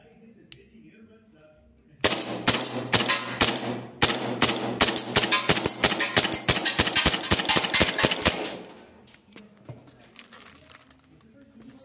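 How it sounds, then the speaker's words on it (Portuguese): A rapid string of M-92 pistol shots rings out, roughly thirty sharp, loud reports fired in quick succession over about six seconds with a short pause early on, then stopping abruptly. "Vou colocar a pistola aqui na frente para vocês efetuarem os disparos comigo ali, ó."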